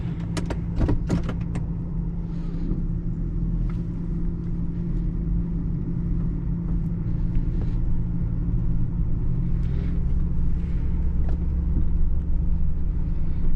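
A 1997 Lincoln Town Car Cartier with a 4.6 liter V8 and 4-speed automatic cruises along, a low steady engine and road rumble heard from inside the cabin, with a few brief clicks and knocks early on.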